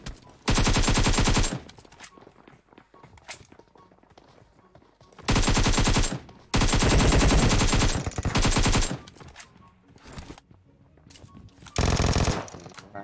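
Bursts of automatic gunfire in the battle royale game PUBG Mobile, several loud sustained volleys separated by quieter gaps, with soft talk underneath.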